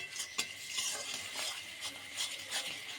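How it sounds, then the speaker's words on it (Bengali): Spice masala for biryani being sautéed in hot oil, a steady close sizzle broken by repeated scraping strokes of a spoon against the pan. "এবার আজকে ভালো করে মশলাটা কষিয়ে নেওয়া হচ্ছে সব কিছু দেওয়ার পরে"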